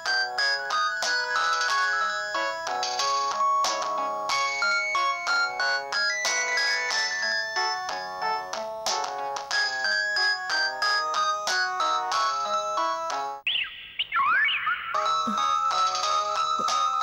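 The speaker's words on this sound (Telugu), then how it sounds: "సరే ఏం చేస్తాం, మనమే ఫోన్ చేద్దాం." A melodic mobile ringtone plays steadily and loudly with no voices, briefly breaking into a warbling chirp near the end before the tune resumes, heard while an outgoing call is placed in a Telugu TV serial.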